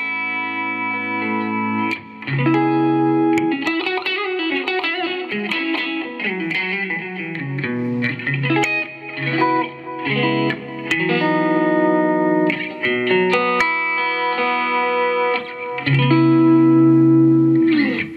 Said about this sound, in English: this next tone is the American Clean, which is based on a very famous American combo. I've also added some reverb and vintage delay